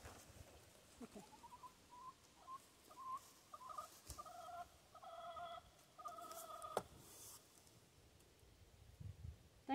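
Chickens clucking and calling in a series of short repeated notes, fairly faint against a quiet background, with occasional knocks and handling noises during woodworking on a multi-use wood box.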